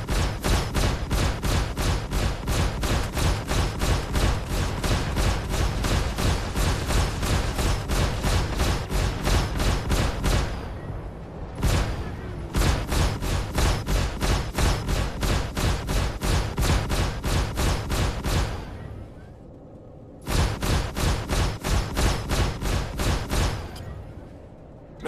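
Rapid, sustained weapon and missile fire from Aegis Vanguard space combat against a Vanduul swarm in Star Citizen, a dense rattling stream of loud shots broken by two short pauses.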